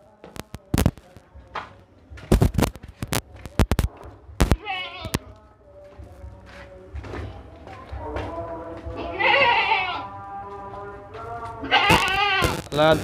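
Goat sale for sacrifice: a healthy young goat with two teeth bleats a few times, wavering calls rising amid handling thumps and nearby talk, loudest toward the end.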